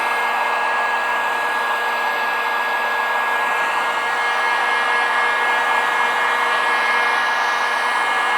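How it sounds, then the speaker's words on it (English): A hair dryer blows close and loud with a constant high whine, warming vinyl graphics on a CFMOTO UForce 1000 XL, running steadily without a break. "You can use a hairdryer for this."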